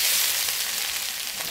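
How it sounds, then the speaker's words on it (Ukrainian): Carrot, onion, tomato and fennel fry in hot oil for a grilled lasagna, giving a steady, close, broadband sizzle with no pauses and no talk. "Відправляємо все смажитись на розігрітій олії."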